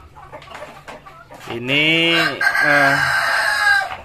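Foreign-breed farm chickens, let out in the morning sun at a small poultry farm with Rhode Island Reds, cluck softly before a rooster lets out a long, loud crow close by, with a brief spoken word at the start.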